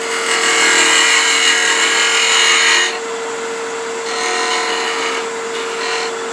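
A beading and parting tool cuts into spinning wood on a lathe while a tenon is formed, giving a steady bright scraping hiss that drops off partway through, then resumes more softly over a constant motor hum.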